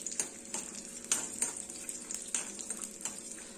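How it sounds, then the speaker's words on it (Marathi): Garlic cloves frying in hot oil over medium heat in a pan for a quick Maharashtrian lasun fry; a steady bright sizzle with sharp stirring clicks and spatters at irregular intervals, close and fairly quiet, no talking. "यामध्ये आपण हे लसूण पाकळ्या इथे थोडेसे फ्राय करून घेणार आहोत"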